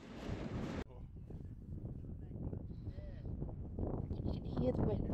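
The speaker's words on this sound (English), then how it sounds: "You can hear the wind." Wind blowing on Waikaia Bush Road in New Zealand during adventure motorcycle riding, a low rushing roar that builds toward the end, with voices talking over it.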